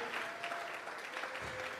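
A church congregation claps a sustained offering of applause during a worship service, a dense, steady wash of many hands close and loud throughout.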